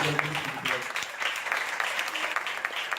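An audience at a literary event at a college claps in a steady, moderately loud round of applause, with some scattered voices mixed in.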